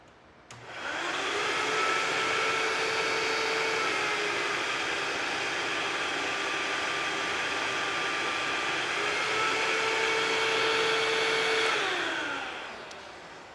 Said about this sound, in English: causing the vacuum cleaner to operate at a lower speed